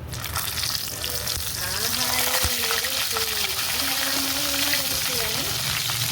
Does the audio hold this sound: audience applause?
no